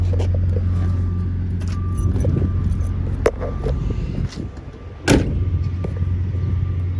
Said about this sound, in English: let me pop the trunk real quick